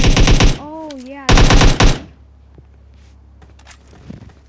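Loud, close automatic gunfire in the video game PUBG comes in two rapid bursts. A rising and falling whistle passes between them, and faint scattered sounds follow.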